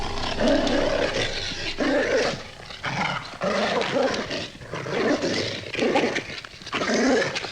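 A dog growls steadily at night, a rough, rumbling snarl that swells and fades in repeated surges for several seconds. The growl is close and fairly loud, with no talk over it.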